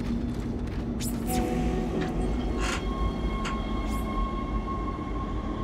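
Steady rumbling rail ride aboard a tram in the video game Dead Space, with a continuous low rolling drone, faint metallic whines and a few brief hissing bursts throughout.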